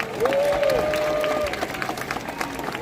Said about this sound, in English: Let's give our trees a big giant round of applause